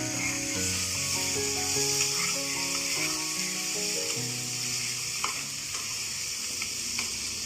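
Fried potatoes go into spice paste frying in a pan for a katla fish curry and set off a loud, steady sizzle that continues under soft stirring scrapes, close and without talk.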